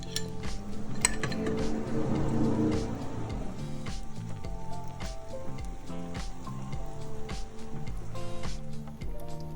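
A lid clinks onto a pan holding a shrimp omelette, with scattered metallic clinks and taps over a low steady cooking hum, close and moderately loud.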